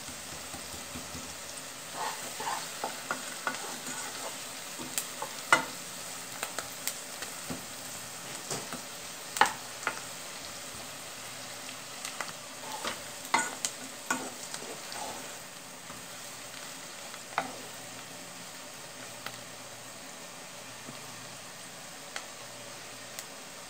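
Frozen bacon sizzles and thaws in a pan with garlic and salt, a soft steady frying hiss dotted with scattered small pops and crackles. The sound stays quiet and close, with no talking.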